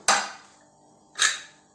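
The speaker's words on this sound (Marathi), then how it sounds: "कुकरचं झाकण लावून देऊ" Two sharp metallic clanks about a second apart as a pressure cooker lid is put on, close and fairly loud, each fading quickly.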